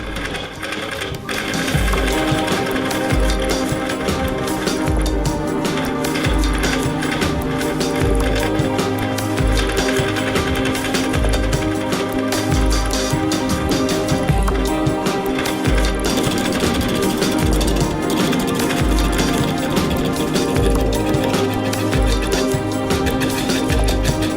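A wood lathe spins a workpiece held in the chuck, producing a loud, continuous mechanical whir with a steady rhythmic rumble that runs throughout without speech.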